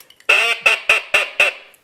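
A Haydel H2 waterfowl call blown to imitate a hen duck gives five sharp, evenly spaced quacks in quick succession, loud and close, with nothing else heard between them.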